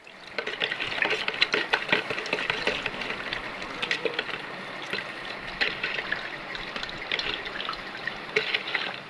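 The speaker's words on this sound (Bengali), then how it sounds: "চিনি মাত্র তো আমি দিলাম তো যার জন্য একটু বেশি করে নাড়তে হবে না হলে তো চিনিগুলো গলবে না" Spoon stirring sugar and Tang into a drink, quick repeated clinks and liquid swishing against a glass, fairly close and continuous, with no voices.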